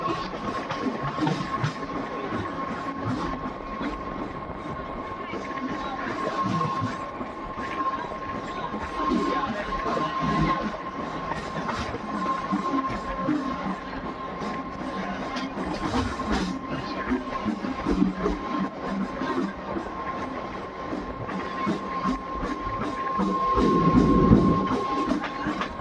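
A MEMU passenger train on the Kota to Bhonra line runs steadily on the rails, a continuous rumble with a sustained hum and light clatter throughout, swelling slightly near the end.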